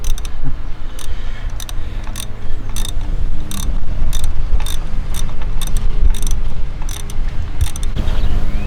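Ratchet wrench clicking during a tune-up on a 2008 Jeep Commander, with quick bursts of sharp ratcheting strokes repeated in an uneven rhythm, close and clear with no talking.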